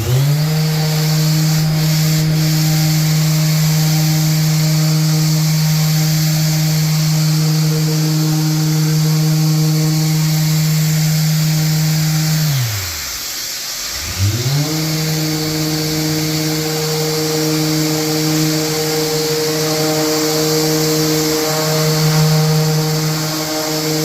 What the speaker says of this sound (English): I'm gonna sand this because any sawdust will get into all the grooves with the glue